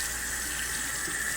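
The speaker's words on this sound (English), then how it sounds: "I just ran them under the water just a little bit" A kitchen faucet runs steadily as vegetables are rinsed under the stream in a sink, a close, continuous splashing hiss with no talk over it.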